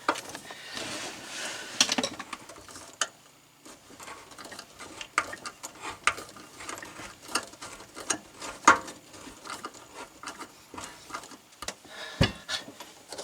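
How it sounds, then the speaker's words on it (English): A screwdriver tightens set screws on a WOWOW kitchen faucet, giving close, quiet clicks, scrapes and ratcheting ticks in irregular bursts separated by brief pauses. "Screw it by hand, and then tighten with a screwdriver."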